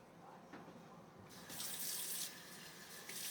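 Water runs from a kitchen tap to rinse out a dish, a steady hiss that swells louder for about a second partway through, then eases back to a softer flow.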